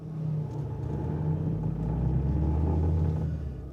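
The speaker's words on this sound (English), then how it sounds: "I'll turn the engine on and I'll let you hear it" A broken-down car's engine idles with a low, steady rumble, a faint rhythmic rubbing or scraping sound repeating underneath.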